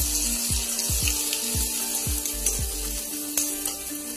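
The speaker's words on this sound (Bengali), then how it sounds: "তেলে পেঁয়াজ কুচিগুলো দিয়ে দিলাম।" Chopped onions fry in hot oil with a steady, close sizzle, broken by a few soft rhythmic knocks of stirring.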